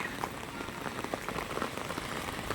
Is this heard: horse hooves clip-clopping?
no